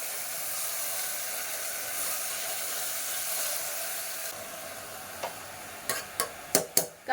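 Half a kilogram of washed mutton stirred with salt and turmeric in a pot, a steady soft scraping and sizzling hiss that gives way to a few sharp clacks of the spoon against the pot near the end.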